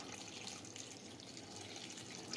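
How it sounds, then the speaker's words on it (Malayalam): Water pours into a cooking pot of curry in a continuous soft splashing stream, steady and faint throughout with no talking. "ഇനി ഇതിലേക്ക് പാകത്തിന് വെള്ളമൊഴിച്ച് കൊടുക്കാം"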